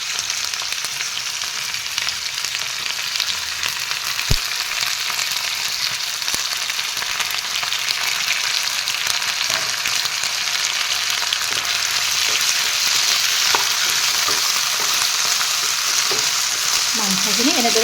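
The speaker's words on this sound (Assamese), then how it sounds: "মাংসখিনি এনেদৰে তলপৰ কৰি লৰাই লওঁ" Pigeon meat fries with browned onions in a hot pan, giving a loud, continuous sizzle while it is stirred, with occasional scraping taps from the utensil.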